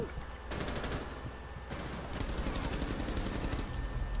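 Rapid bursts of automatic gunfire in Rainbow Six Siege crackle continuously, dense and rattling, with repeated volleys layered over a constant low game soundscape.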